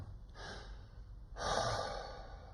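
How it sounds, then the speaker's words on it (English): Two relaxed breaths from a classical singer practising elastic lung recoil, a shorter one followed by a longer, fuller exhale, both close and alone. "make that out breath, the recoil breath as I'm calling it, slightly longer?"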